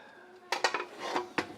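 A metal lid goes onto a deep fryer with a few quick clinks and clatters of metal on metal, close and fairly quiet, with no talking.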